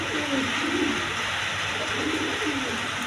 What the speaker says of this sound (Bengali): এখানে এক পেয়ার জার্মান সিল্ক কবুতর আছে রেড কালারের মধ্যে